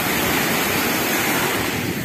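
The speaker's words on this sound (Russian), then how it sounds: "И волна сегодня прямо шикарная." Sea surf breaking steadily at a beach in Lazarevskoye in October, a continuous, loud wash of waves with no pauses or voices.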